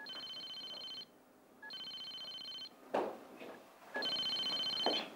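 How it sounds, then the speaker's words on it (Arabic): A telephone rings in repeated bursts, three clear electronic trills with short pauses between them, loud and close in a quiet home kitchen. "ليش ما عم تمتع التليفون؟"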